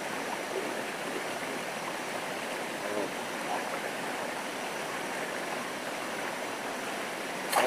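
Cold mountain stream water rushes steadily in a continuous, loud broadband wash, with a brief exclamation from a person near the end.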